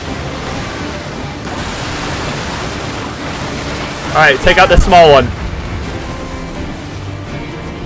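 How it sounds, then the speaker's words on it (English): Heavy waves crash against a sailing ship at sea in Assassin's Creed Black Flag, a steady broad roar of surf and spray running throughout, with someone talking briefly partway through. "the waves are hitting hard."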